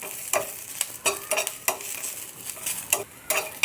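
Cardamom, black pepper, cloves and cashews frying on high flame in a pan, a low sizzle broken by repeated sharp scrapes and clinks of a spoon stirring at an uneven pace, close up, no talk.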